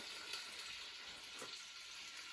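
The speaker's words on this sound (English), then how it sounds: "And then literally just sear it for a moment on each side." Beef sears in a pan on an Aga range cooker, producing a faint, even hiss of sizzling fat that holds steady throughout, heard alone without any voices.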